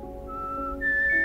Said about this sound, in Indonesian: Di sana omnya diam-diam bersiul.